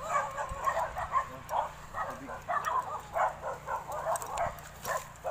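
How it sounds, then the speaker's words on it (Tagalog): Several dogs bark and yip in repeated bursts close by, in a typhoon-damaged village in Pola, forming a steady, overlapping chorus with no talk. "Ang daming aso dito."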